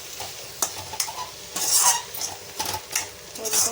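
Boiled cluster beans, seasoned with turmeric and salt, are stirred into a sizzling pan at home, with a metal spoon repeatedly scraping and clinking against the pan in irregular bursts, close and fairly loud.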